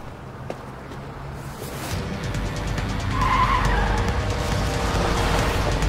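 A car speeding in an action-movie chase scene, its engine rising as tires skid and screech loudly over the last few seconds.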